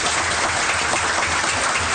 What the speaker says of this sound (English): Can we have a nice round of applause for the city?